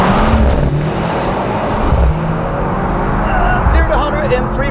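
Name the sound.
Mercedes AMG C63 S E-Performance race start acceleration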